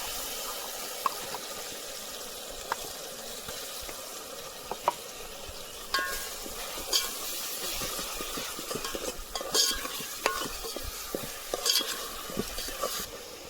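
Ground masala paste being added to a pan on a wood-fired stove outdoors, with a low steady sizzle and scattered stirring scrapes and clicks, louder in the second half.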